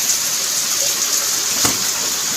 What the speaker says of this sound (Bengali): বৃষ্টি খুব জোরে পড়ছে।